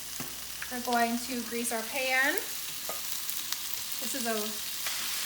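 Food sizzles steadily in a greased pan, a soft continuous frying hiss running beneath short bursts of nearby talk.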